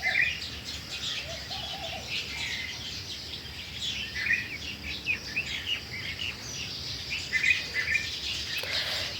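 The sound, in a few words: Asian koel and small birds calling at dawn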